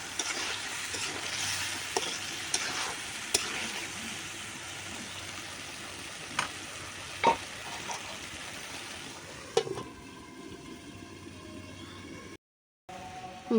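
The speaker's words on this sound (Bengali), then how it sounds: "মাংসটা বেশ ভালো করেই কষায় নিতেছি" Meat is sautéed in a pan on a new stove, giving a moderate, continuous sizzle with occasional sharp spoon clicks and scrapes from stirring. The sizzle fades to a quieter hiss toward the end, briefly dropping out entirely.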